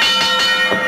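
Ring bell clanging at a televised NWA St. Louis professional wrestling match, a bright metallic ring with sustained overtones over crowd noise, loud and close.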